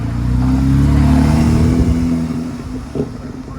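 A Porsche GT4 engine revs up loudly nearby past 3,000 rpm, holding a deep growl that tapers off, with a brief blip near the end.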